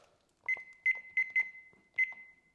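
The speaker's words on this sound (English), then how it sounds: "Set my timer for 30 minutes." Several short electronic beeps from a kitchen timer being set, in quick succession, a steady high tone pulsing with uneven gaps, fairly close and clear, no voices.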